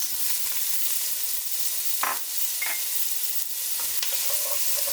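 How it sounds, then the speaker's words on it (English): Onions sizzle in a pan just used to brown beef for a Belgian beef stew, a steady frying hiss broken by a few brief scrapes and clinks of stirring. "I'm going to go ahead and add the onions."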